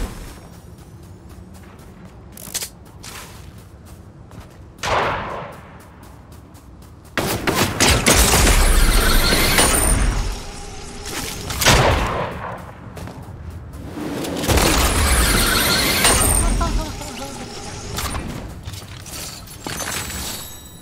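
Gunfire in the Fortnite video game comes in loud, dense bursts and volleys, with quieter single shots early on before heavy sustained shooting takes over.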